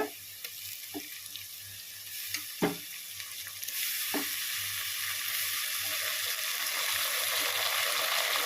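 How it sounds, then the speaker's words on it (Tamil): Onions sautéing in a pan while making prawn biryani: a steady sizzling frying hiss that swells louder partway through, with a few sharp clinks of a spoon against the pan and no voices. "நல்லா வெங்காயம் வதங்கிடுச்சு."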